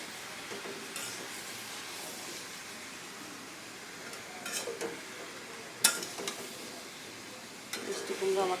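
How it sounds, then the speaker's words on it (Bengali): Meat sautéing in a pan for a home-cooked lunch gives off a faint, steady sizzle, broken by a few soft clinks and scrapes of stirring toward the end. "এদিকে আমার মাংস একদম কষে যাচ্ছে"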